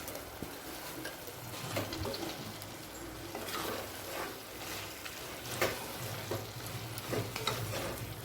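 Soya chunks (meal maker) stirred into a yogurt-based gravy in a pan give a continuous soft sizzle and wet scraping, with occasional spoon clicks against the pan, moderately quiet and without talk.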